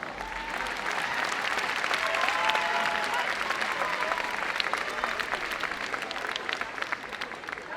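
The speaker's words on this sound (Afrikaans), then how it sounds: "Kom ons gee hulle 'n hande klap." Audience at a school netball match applauding, sustained dense clapping at a moderate distance, swelling slightly then easing, with faint voices underneath.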